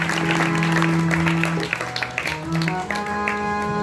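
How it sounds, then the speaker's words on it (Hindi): An audience claps together at a Ganesh Chaturthi gathering to welcome Lord Ganesh, the scattered taps running under sustained musical tones and a droning backdrop that fades slightly toward the end. "हम सब लोग तालियों की गूंज में स्वागत करते हैं"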